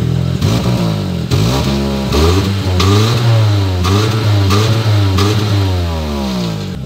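A VW Gol G3 Rallye with a 1.6 AP engine revs repeatedly, loud and close, its pitch rising and falling through several strong bursts over a steady running drone.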